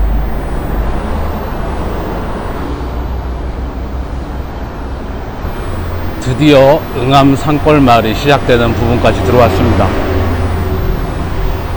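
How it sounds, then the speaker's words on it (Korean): Loud, steady traffic roar from a six-lane road in a Seoul neighbourhood near Eungam hillside village, constant and close, with someone speaking over it for the second half. "차 소리가 무지 시끄럽네요."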